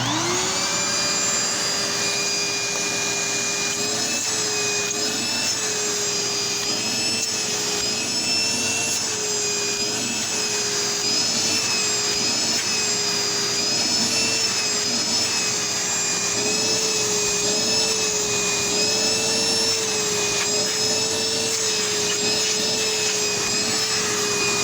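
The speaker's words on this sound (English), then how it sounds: "I'm going to show you the suction power that these two vacuums have" Dirt Devil vacuum cleaner, Featherlite or Self Propelled Vision, running steadily with hose suction: a loud continuous motor whine with high tonal harmonics that waver slightly throughout, no talk.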